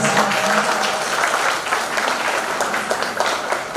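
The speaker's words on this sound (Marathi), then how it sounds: "थोडे जोरदार टाळ्या वाजवाव्या." Audience at a certificate distribution program applauds loudly, a dense, sustained burst of many hands clapping at once.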